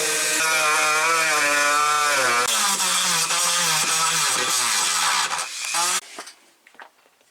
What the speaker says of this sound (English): And grind the excess head off.